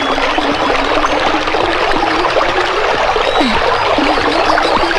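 Flowing river water streams and trickles steadily as people wade across a cold river, a continuous close babble with small splashes and no talk.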